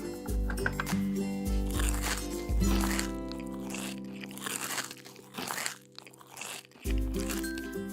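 Cartoon characters munch and crunch food in loud, repeated bursts of biting and chewing, with short pauses between and music-like tones underneath.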